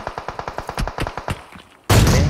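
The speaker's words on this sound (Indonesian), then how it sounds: "Dia nembakin kita, Bang." Rapid bursts of automatic gunfire in a mobile battle royale shooter, a steady stream of sharp repeated shots that ends in a sudden loud blast of noise.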